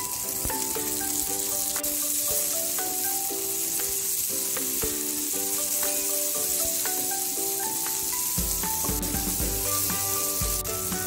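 Chili and tomato sizzle in oil with garlic in a pan, a steady close frying hiss throughout with occasional stirring clinks, and soft background music notes running alongside.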